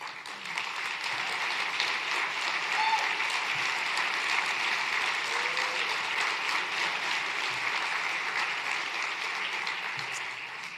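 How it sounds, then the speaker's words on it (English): A large audience at a buildings and energy summit's opening plenary applauds award recipients as they stand, a long, full, even wash of clapping from many hands that holds steady and eases slightly at the end. "please stand to be recognized with a round of applause from me and all of your peers"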